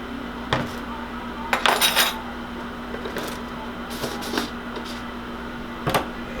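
A whisk clinks and rattles against a bowl, blending flour and baking powder for an apple cobbler; the taps come in short irregular bursts over a quiet steady hum, and no one speaks.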